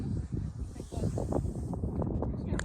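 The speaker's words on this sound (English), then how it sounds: "I'm not even sure if you can hear me very well because it's pretty windy up here." Wind rushes across the microphone on an exposed hilltop somewhere in the Western United States, a steady close roar with gusty swells, while a person speaks underneath and faint voices drift in.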